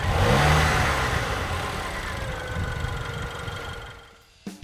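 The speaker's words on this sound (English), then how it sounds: "it almost sounds like a diesel engine" A turbo petrol engine in a pre-2014 Range Rover Evoque revs loudly and steadily, its rough, diesel-like drone slowly fading, then a brief clunk near the end.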